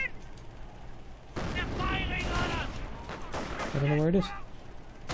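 Mortar blasts and gunfire rumble through a World War II battle game, a steady barrage of thuds and cracks under excited talking, with a louder burst near the end.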